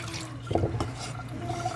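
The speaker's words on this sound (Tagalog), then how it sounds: "Lalagyan natin ng konting tubig." Water slowly poured into a flour batter seasoned with salt and pepper, a soft, brief trickle and slosh in a kitchen, quiet and close, with low background hum.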